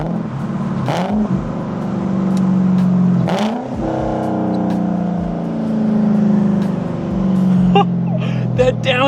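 An Audi with a swapped-in V8 engine cruises and downshifts, with its rumble rising and falling through several revs and gear changes heard from inside the car, including a sharp blip around the downshift.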